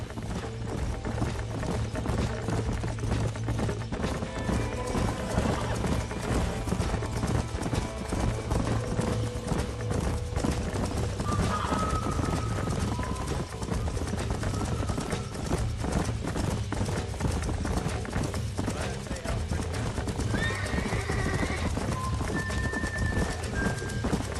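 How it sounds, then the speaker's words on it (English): Horses in the Red Dead Redemption video game clip-clop steadily across ground over nearly half a minute, with occasional neighs and whinnies, clinking tack and faint mechanical ratcheting layered underneath at moderate loudness. "These are fine horses."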